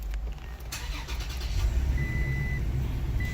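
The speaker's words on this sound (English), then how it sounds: "let me start the car and I'll put it in reverse" A Toyota Tacoma truck engine cranks and fires up nearby, building into a steady low idle rumble, with a high electronic tone appearing briefly near the end.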